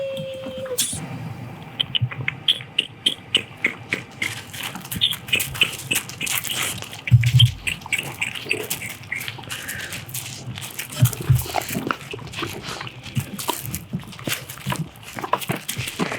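Puppies at a dog rescue make small scrabbling, pawing and snuffling sounds close by, with brief squeaks and soft thumps scattered throughout and a few quiet human murmurs.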